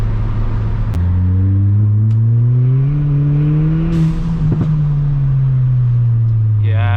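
A Stage 1 Ford Fiesta ST accelerates hard, the engine tone rising loudly through one gear, then dropping at a shift before climbing again, close and strong from the cabin.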